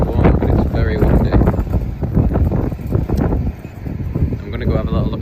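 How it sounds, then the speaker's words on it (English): Strong coastal wind on a sunny day at Gold Beach, Ver-sur-Mer in Normandy, buffets the microphone in heavy, uneven gusts, with a voice partly buried underneath. "It's really windy, so I hope you can actually hear me."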